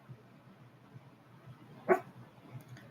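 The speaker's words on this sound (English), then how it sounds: "She's barking at a squirrel right now." A single faint, short bark from a dog at a squirrel rises briefly near the two-second mark over low background rumble, heard from some distance.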